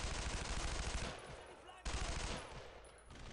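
Rapid bursts of automatic fire from a Thompson submachine gun in a video game, two dense sustained volleys separated by a brief break, loud and close.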